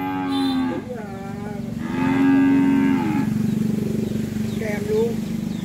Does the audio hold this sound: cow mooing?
yes